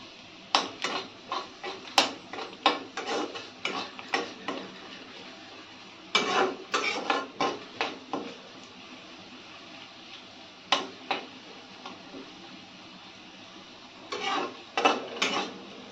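A metal spoon stirs frying onions and chickpeas in a pan, giving bursts of rapid clinking scrapes that stop and restart over a faint sizzle, close and fairly loud.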